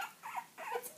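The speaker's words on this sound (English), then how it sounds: "she hears the puppies squeaking" Two-and-a-half-week-old puppies give two short, high squeaky bursts in quick succession, faint and close, with no talk.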